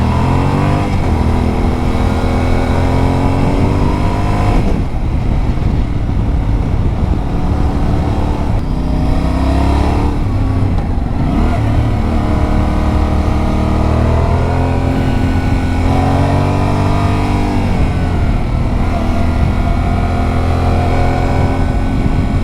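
A Yamaha Ténéré 700 World Raid motorcycle engine hums steadily while riding on the road, its pitch rising and falling through gear changes, loud and close with wind rush underneath.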